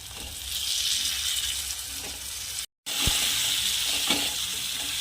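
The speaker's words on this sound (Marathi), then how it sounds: "आता यामध्ये आपण हे वांगे वांगे छान असे चिरून घेतले वांगे ॲड करू" Chopped eggplant goes into a sizzling spice paste for Vidarbha-style dal vange, and steady frying hiss continues with stirring scrapes; a short gap midway, then a few soft clinks of a spoon against the pan.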